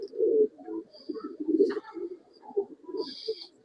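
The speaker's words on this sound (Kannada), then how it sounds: "ಒಳ್ಳೆ ಹಕ್ಕಿಗಳು ಐತೆ ಇವ್ರ ಹತ್ರ" Tara pigeons coo in a loft, a steady run of low, throaty burbling calls from several birds close by, with a few faint higher chirps mixed in.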